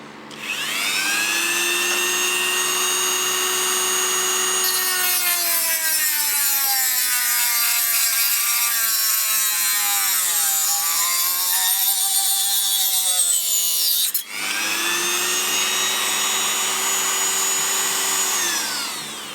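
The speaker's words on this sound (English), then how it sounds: "Cut that off with the Dremel." A Dremel rotary tool with a small carborundum cut-off disc slices through a hard steel rod for a machinist's scriber, a loud continuous high-pitched whine that shifts in pitch as it bites, pauses briefly, then resumes.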